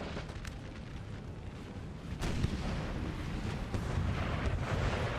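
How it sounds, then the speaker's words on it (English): Cannon fire from a Napoleonic Total War 3 battle rumbles in the distance as a dense, continuous low roar of overlapping booms that swells louder partway through, with no one talking. "This angle, the artillery's firing the other direction."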